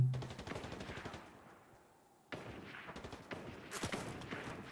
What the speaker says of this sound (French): Oh, ça a tiré, je sais pas où c'est.